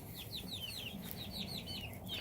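A Rhode Island Red hen clucks close by in a series of repeated, rhythmic chirping calls over a faint farmyard background.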